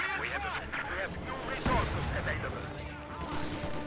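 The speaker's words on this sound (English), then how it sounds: "Heavy mortar bombarding that machine gun while the conscripts pin down there and provide vision." Dense crackle of video game battle fire, heavy mortar blasts and MG42 machine gun bursts, with a louder thump in the middle and a continuous rattle of shots throughout.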